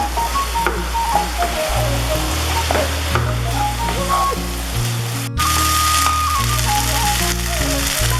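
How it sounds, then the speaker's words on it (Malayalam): Pepper chicken frying in a pan, a loud, continuous sizzle with stirring and scraping throughout, close up and without speech. "എന്നിട്ട് നന്നായിട്ട് ഇളക്കി യോജിപ്പിച്ച് കൊടുക്കാം."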